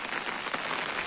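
Steady rain falls outdoors in a short burst of dense, even hiss, a shower about ten minutes old with water running through nearby channels and creeks; close and constant, with no voices.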